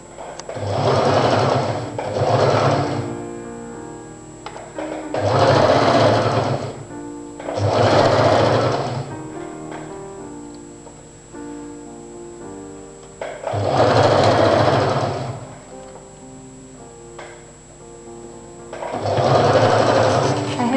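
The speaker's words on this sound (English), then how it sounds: "give a largest stitch of your machine so that you can unstitch it after completing the hem" A sewing machine stitches a hem in repeated runs of several seconds each, a loud close whirring hum with pauses between bursts and no speech.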